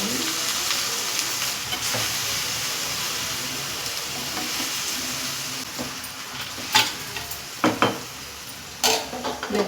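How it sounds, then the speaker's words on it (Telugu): Okra cooking in a pan over a lowered flame in a home kitchen, a steady soft sizzle and hiss with a few sharp utensil clinks near the end, close and without talk. "బెండకాయలు ఒక 5 మినిట్స్ ఉడికించుకోవాలి."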